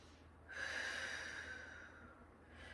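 One deep breath in a yoga pose, a close, airy inhale and long exhale that rises then slowly tapers, alone and fairly quiet.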